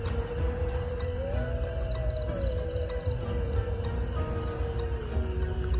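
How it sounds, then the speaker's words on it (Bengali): Crickets trill at night on the dark grounds of Mahishadal Rajbari beside a pond, a steady dense chirping chorus with brief pulsed calls and a faint sustained tonal drone beneath, no voices. "ঝিঝি পোকার আওয়াজ।"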